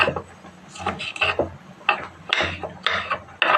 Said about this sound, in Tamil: இப்போ வந்து டொமேட்டோவை கட் பண்ண போகிறோம்.